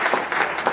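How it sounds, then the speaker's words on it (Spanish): Audience applause at an academic law conference, a short burst of steady clapping filling the room with faint speech-like murmur underneath. "Un aplauso para ella, por favor"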